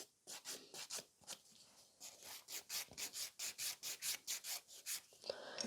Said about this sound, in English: I just need to smooth it out the entire nail. So like file it like this.